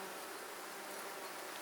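Honey bees buzz steadily and densely as a frame is drawn slowly from the hive, a continuous close, moderately quiet drone with no pauses.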